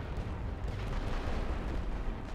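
Heavy artillery bombardment in The Great War: Western Front, a continuous dense rumble of overlapping distant blasts filling the short stretch without pause.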